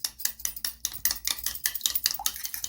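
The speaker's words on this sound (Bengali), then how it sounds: "এবার এই ডিমটাকে ভালো করে ফেটে নেবো আমি" Fork or spoon briskly beating eggs with a pinch of black pepper in a bowl for an omelette, a quick rhythmic series of sharp clinks and taps, close and clear.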